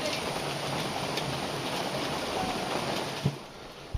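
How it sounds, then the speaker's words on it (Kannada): Steady rain falling outdoors at Yana in Karnataka, a broad continuous hiss with a couple of brief knocks near the end, fairly close and without talk. "ಮಳೆ ಸ್ವಲ್ಪ ಕಡಿಮೆ ಆಗಿದೆ."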